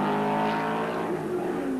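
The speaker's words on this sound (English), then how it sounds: "Car sounding good." A race car at the 1978 Australian Grand Prix at Sandown roars past, its loud engine note holding high and then dropping in pitch as it passes.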